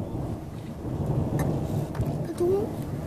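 Thunder during a thunderstorm in Spijkenisse, a low continuous rumble rolling under steady rain, with a slight swell near the middle and a brief voice-like tone toward the end.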